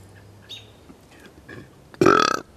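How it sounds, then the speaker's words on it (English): A single loud, gravelly burp erupts near the end after a quiet stretch with faint background sounds and a few soft chirps. "Burp for effect."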